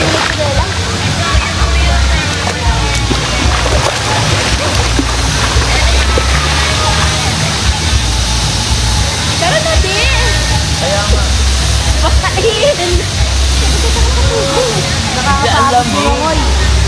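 The waterfall at Bato Spring in Laguna gives a steady, loud, close rush of falling water that never lets up, with voices talking under the roar.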